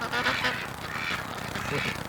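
Ducks quack in a yard on a large duck farm, a few close, rough calls running together over a short stretch, with a person's voice mixed in.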